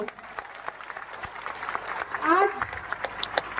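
An audience at a company event applauds at a fairly low level, a soft, continuous patter of clapping, with a voice briefly audible over it.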